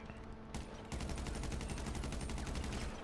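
Sustained automatic gunfire in GTA V Online, a dense, rapid stream of loud shots that starts after a brief pause and continues steadily to the end.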